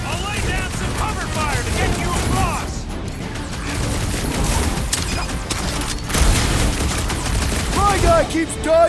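Sustained cover gunfire in the video game Guardians of the Galaxy, a dense burst-heavy fusillade of shots with booms and crashes layered under shouted voices and a game soundtrack.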